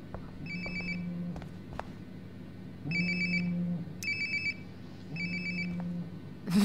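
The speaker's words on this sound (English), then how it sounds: "Sounds like my phone is definitely nearby." A mobile phone rings in the video game Life is Strange: Before the Storm, with four short ringtone bursts repeating at a steady rhythm. It sounds moderately close but fairly soft over a quiet, low ambient background, with no voices.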